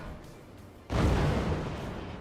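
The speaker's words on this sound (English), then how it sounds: "That's a fragmentation cannon." A fragmentation cannon fires in a 2v2 modded video game, a sudden loud boom that swells into a sustained roaring blast rumbling on for over a second after a quieter lead-in.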